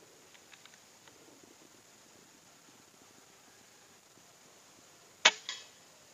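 A single sharp, muffled pop from an air rifle with a Neo Gorilla suppressor, followed by a brief rattle, in an otherwise quiet space.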